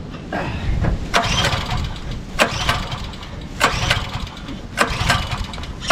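Gas engine of a used Dirty Hand Tools 22-ton log splitter runs loud and close, a rough uneven chug with repeated sharp knocks and bursts, no talking.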